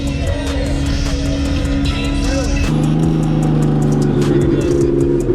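An RB-powered Nissan S13 on a road test run, its engine droning loud and close as the revs climb, then dropping to a lower pitch after a gear change, with someone speaking over it.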